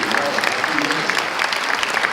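A crowd applauds at a property-market forum, steady dense clapping filling the room with some voices mixed in.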